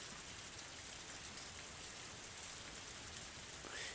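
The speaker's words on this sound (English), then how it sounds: "It's raining." Steady rain in a Higurashi video game scene, falling near a hallway beside a Japanese garden, a dense, even hiss of drops on surfaces that continues unbroken throughout, with no voices.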